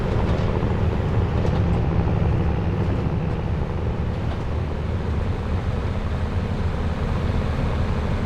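A train passing by in Farming Simulator 22, a loud, continuous, heavy rumbling roar that holds steady throughout with no pauses.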